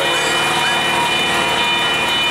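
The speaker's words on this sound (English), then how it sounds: "Here comes the train." An amusement park train, the Seaside Railroad at Six Flags Discovery Kingdom, rumbles past close by, with rhythmic clickety-clack from the wheels and a steady metallic hum, loud and continuous.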